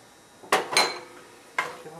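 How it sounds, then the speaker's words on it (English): Onions and garlic being stirred in a pot for canned spaghetti sauce, heard as three distinct clanking scrapes of a utensil against the pot, fairly close, with quiet background between them. "Give them a stirring."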